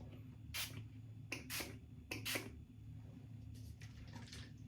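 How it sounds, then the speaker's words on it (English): Makeup setting spray hisses in several short, breathy bursts, a few quick pumps in a row then softer ones, close but quiet over a low steady background hum. "That's the setting spray."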